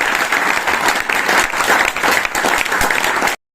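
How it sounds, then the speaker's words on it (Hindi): Audience applause fills a hall at a business training seminar, loud and sustained clapping from a large crowd that runs steadily for over three seconds and then cuts off abruptly. "एक बार ताली बजा सकते हैं आप?"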